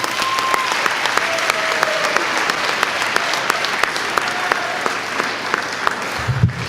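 Sustained applause from a school audience honoring distinguished citizens, steady dense clapping throughout, loud and close, with no voices over it.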